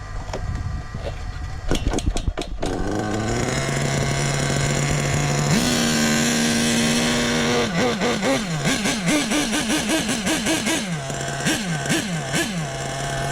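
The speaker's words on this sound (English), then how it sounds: "you got a two-stroke, can't let it load up. You gotta keep brapping it, brap." A small two-stroke engine in a Hobao Hyper VS2 RC car, during break-in, idles, then revs repeatedly in sharp bursts, rising and falling in pitch, close and loud.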